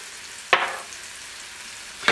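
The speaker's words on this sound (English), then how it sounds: "You just want to stir these up and cook them until they start getting aromatic." Garlic fries in oil with a faint sizzle, broken by two sharp stirring scrapes about a second and a half apart, close and with no voices.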